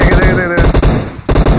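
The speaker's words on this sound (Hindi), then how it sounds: "M4 चला रहा है कोई" An M4 rifle in PUBG fires rapid automatic bursts, loud and close, with short pauses between volleys and a faint tonal hum under the first burst.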